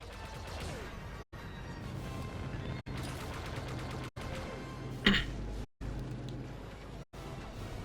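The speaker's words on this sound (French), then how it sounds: "Boum. Méga explosion. Turbo explosion." A Republic cruiser explodes in the Star Wars Battlefront 2 video game, heard as a sudden loud blast around the midpoint. Steady rumbling battle noise with gunfire-like bursts surrounds it, broken by several brief silent gaps.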